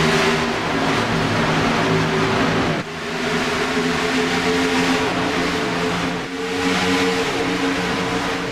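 Race cars accelerate at the start of a sim racing game race at Homestead, a loud, sustained engine roar with upshifts, pitch climbing then dropping at each gear change, repeating twice.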